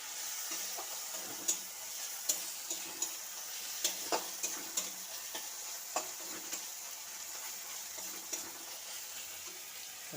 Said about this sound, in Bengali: প্রথম জলে সেদ্ধ করে দিয়েছিলাম, তারপরে ভেজে নিলাম।